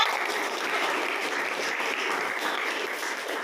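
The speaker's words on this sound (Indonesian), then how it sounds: "Oke, tepuk tangan itu kita semua." A classroom of students claps together in one short, dense burst of applause, even and unbroken from start to finish.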